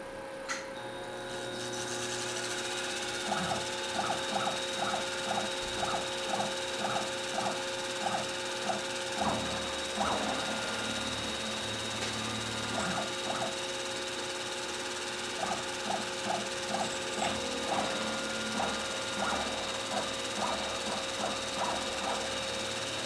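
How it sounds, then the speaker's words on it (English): A metal cylinder block being center drilled on a machine: a steady mechanical hum and whine runs throughout, overlaid by bursts of quick, regular ticking and clicking, close and moderately loud. "center drill now."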